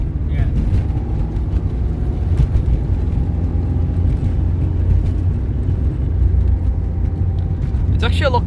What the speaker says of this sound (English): I expected the car to be a lot more noisy.